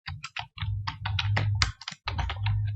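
Rapid clicking of computer keys as a Facebook page name is typed, dense bursts of keystrokes close by with brief pauses between runs.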